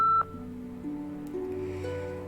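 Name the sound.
answering machine beep in the video game Nancy Drew: Midnight in Salem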